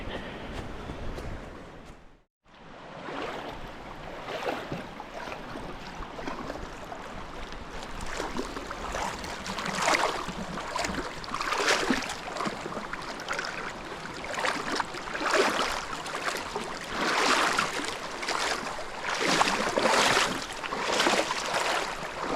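River water rushes steadily at a trail crossing in Pisgah National Forest, a continuous broadband wash of flowing water that briefly dips near the start before resuming.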